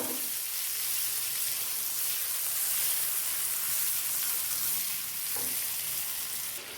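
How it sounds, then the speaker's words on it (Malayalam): Blended tomato for egg kurma cooking in a pan, giving a steady, close bubbling sizzle with no speech, holding at an even level throughout. "നല്ലപോലെ ഒന്ന് തിളപ്പിച്ചെടുക്കാം."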